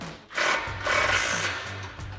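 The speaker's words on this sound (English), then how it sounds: "We're going to try to tighten this down with our 21mm socket." A nut on a front control arm of a 2011-2019 rear-wheel-drive Dodge Charger being run down with a 21mm socket, a loud close buzzing rattle of a power tool in short continuous bursts.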